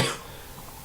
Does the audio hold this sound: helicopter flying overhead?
no